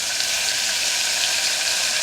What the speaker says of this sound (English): Oh, you gotta love that sizzle.